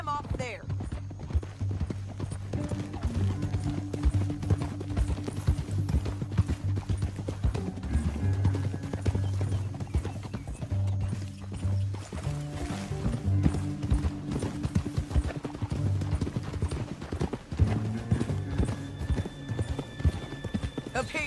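Steady clip-clop of horse hooves at a gallop in Red Dead Redemption 2, joined by a tense music score and occasional voices, with a whinny or two mixed in.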